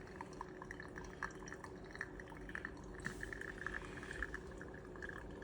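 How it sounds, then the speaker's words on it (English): Pour-over coffee dripping through a filter, a faint, steady trickle of small drips with a low background hum and no voices. "once this finishes dripping, I will have a great cup of coffee"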